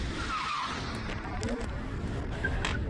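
A BMW race car roars past on a hill-climb course, engine noise and tire hiss sweeping by at moderate distance with a rough, continuous rumble.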